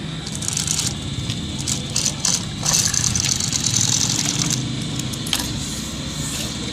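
An electric sewing machine runs steadily, stitching along the side of black cloth in a tailoring shop, a continuous motor hum with rapid mechanical chatter, close and fairly loud throughout.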